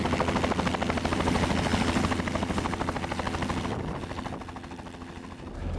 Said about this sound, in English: we have to go over in choppers